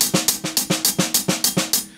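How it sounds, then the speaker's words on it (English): A drum kit groove with a steady sixteenth-note hi-hat and soft snare ghost notes under regular kick and snare accents, played close and loud with no talking. "So I figured out that if I do the ghost notes and the hi-hat with 16 notes"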